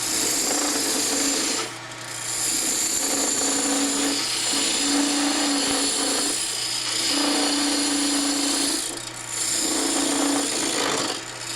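Wood turning on a lathe, with a tool trimming material off the end of the spinning piece: a rhythmic scraping and whirring in repeated passes, each several seconds long with brief pauses between, close and fairly loud.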